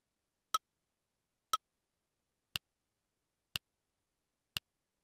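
A clock ticking sound effect in a Microsoft Access form gives five sharp, evenly spaced ticks one second apart, each isolated against silence and fairly quiet.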